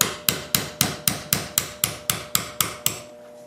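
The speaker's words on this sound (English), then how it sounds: "I'll take my 1/8 inch roll pin punch and I'll punch the pin out." Eleven evenly spaced, sharp metallic hammer strikes on a 1/8 inch roll pin punch, driving a pin out of a pistol frame. The blows are loud and close, with a steady rhythm.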